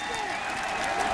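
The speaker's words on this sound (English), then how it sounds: "Now the Duck fans have something to cheer about." A stadium crowd of college football fans at Oregon versus Purdue roars and applauds after a touchdown, a dense continuous cheer with a commentator talking over it.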